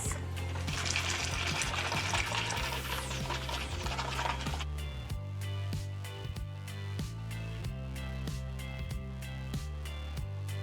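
A mixture is whisked into boiling water with sugar and cinnamon on a stove, giving a steady liquid swish and sloshing for several seconds before fading under rhythmic background music.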